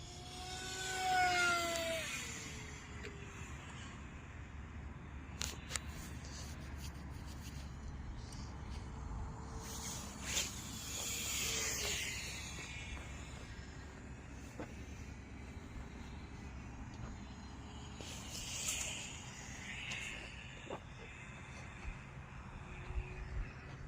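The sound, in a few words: RC V-tail speed plane flying fast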